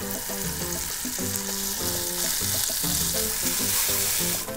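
Chorizo fries in oil in a pan for a Mexican omelet, giving a steady, close sizzle with bright crackling throughout and no talk.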